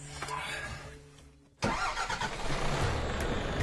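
A truck engine starts with a sudden loud catch after a quiet stretch, then settles into a steady rumbling idle close by, ahead of a drive on the treacherous Killar Road; a voice talks over the early part.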